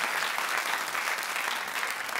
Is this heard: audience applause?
yes